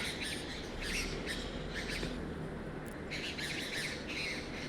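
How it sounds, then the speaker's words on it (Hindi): Birds on a rooftop give repeated bursts of squawking chirps over a steady hiss, close and moderately loud, with no talk. "ये देखिए चिड़िया चींची कर रही है"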